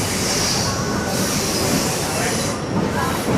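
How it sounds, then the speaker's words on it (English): Railway carriages on a Thai train ride near Kanchanaburi's Hellfire Pass creak, groan and squeal against the rails in a loud, continuous rumble, close up and unbroken. "Lots of creaking and groaning and straining going on"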